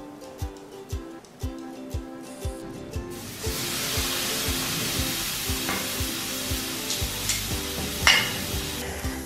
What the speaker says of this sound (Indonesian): Sekarang kita panggang.